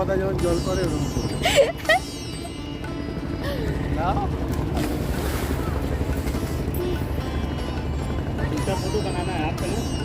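Boat ride on the river at Varanasi: a steady low engine drone and water noise run throughout, with wind buffeting the microphone, a couple of sharp knocks early on and faint voices in the background.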